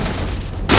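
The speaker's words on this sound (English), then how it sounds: "Grenade. I saw that." A grenade goes off in S.T.A.L.K.E.R.: Shadow of Chernobyl, a loud, close, deep boom that suddenly swells over an already rumbling, noisy background in under a second.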